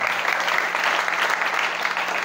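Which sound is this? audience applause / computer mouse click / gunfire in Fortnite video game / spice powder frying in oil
audience applause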